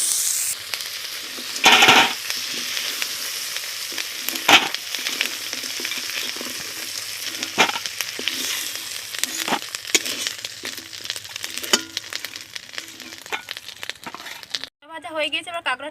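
Small field crabs fry in oil in a kadai, crackling and sizzling steadily while a spatula scrapes and stirs in bursts, and a voice speaks over the cooking.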